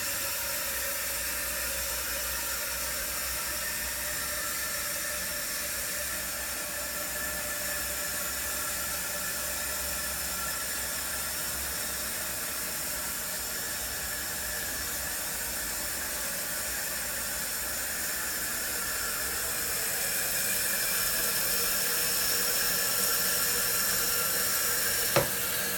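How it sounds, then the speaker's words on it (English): Water rushing steadily into a toilet tank as it refills after a flush through a newly installed fill valve, a continuous hissing, close flow that stays even and grows slightly louder near the end, with no talking. "I'm going to flush it again to make sure it's not making noise after it stops."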